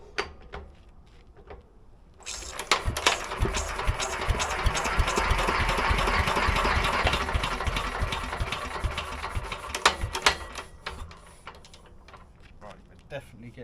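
Vintage Petter A1 stationary engine cranked over during a start attempt, a sustained loud mechanical churning and clatter for several seconds, then scattered clicks and knocks as it stops without running.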